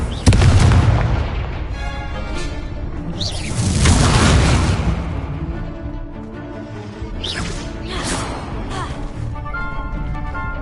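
Repeated Confringo blasting-spell explosions in a Harry Potter video game, loud booming bursts with crackling debris, the strongest around the middle, over a busy layer of game effects and shouted spell voices.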